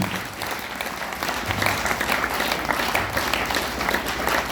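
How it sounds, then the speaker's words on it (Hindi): A club audience bursts into sustained, loud applause, dense steady clapping filling the whole stretch with no pauses and no voices on top. "एक बार दोनों हाथ ऊपर करके जोरदार तालियां बजा सकते हैं मिस्टर पवन राठी"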